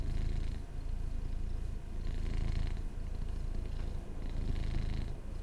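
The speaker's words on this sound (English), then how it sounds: "so you can hear him purring" A Norwegian forest cat purrs steadily and close, a continuous low rumble rising and falling with each breath, with no voices over it.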